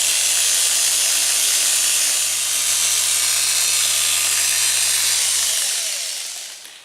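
An electric polisher runs steadily against an engineered quartz countertop with abrasive, giving a loud, continuous high whine with a low hum under it that winds down near the end.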